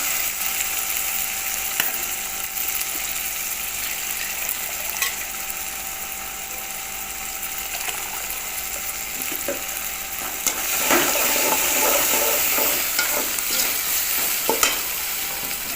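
Tomatoes sizzle steadily in a pan for a Tamil paruppu urundai kuzhambu, with a spoon scraping and stirring intermittently through the frying, close and continuous, growing briefly louder near the end.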